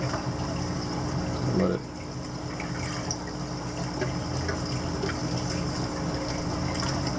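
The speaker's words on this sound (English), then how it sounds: "The auto top off is going to kick on" An auto top-off pump feeds fresh water into a reef aquarium, giving a continuous trickling, filling wash under a steady hum, with a brief voice near the start.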